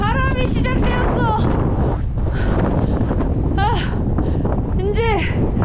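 Strong, steady wind buffets the microphone on a mountain trail at Seonjaryeong, a constant loud roar, while people talk over it in short bursts.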